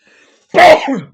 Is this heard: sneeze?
yes